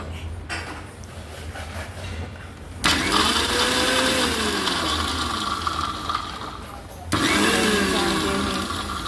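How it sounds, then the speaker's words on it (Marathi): A kitchen mixer grinder whirs loudly as it grinds garlic, green chili, coriander and curry leaves, running in two long bursts with a voice speaking over the motor. "हे सगळं एका मिक्सर जारमध्ये टाकून आपण दळून घेणार आहोत"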